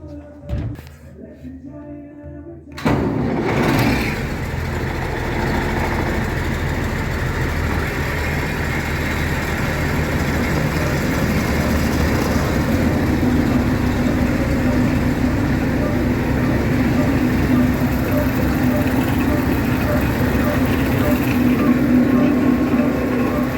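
A Model C engine runs steadily on a rainy day with a constant rumbling, rhythmic chug and a rubbing brake shoe scraping underneath, close and continuous after a short quiet start.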